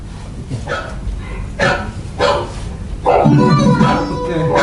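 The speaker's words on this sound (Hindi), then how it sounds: "कुत्ते होंगे।" Dogs bark in a Hindi stage play, several sharp, loud barks at irregular intervals followed by a denser burst of barking, with voices mixed in.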